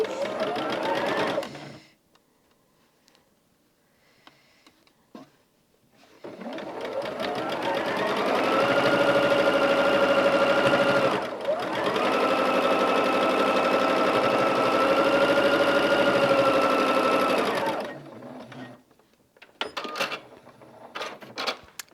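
A sewing machine hums steadily and close for a long stretch while sewing quilt top rows, its pitch rising as it speeds up, with a brief pause midway and a short start before, then small handling clicks.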